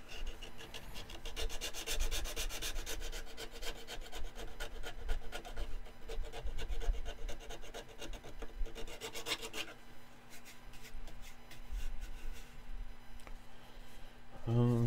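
A hand file rasps steadily against a workpiece in rhythmic back-and-forth strokes. The sound is close but fairly quiet and continues through the whole stretch, with a faint voice at times.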